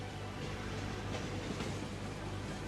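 A tram rolls along its tracks in the Cities Skylines video game on PS4, giving a steady, dense rumble that holds at an even level throughout, with no talking.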